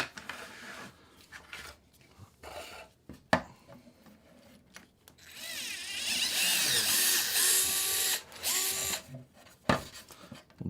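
Power drill boring into plastic RC car parts, with a loud whining run that rises and falls in bursts, plus clicks and handling knocks before and after.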